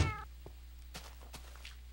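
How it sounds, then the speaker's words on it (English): A Minecraft cat gives one short, clear meow, followed by faint soft in-game clicks and taps against a low steady hum. "And I have my two kitties, Dragon and Sparks."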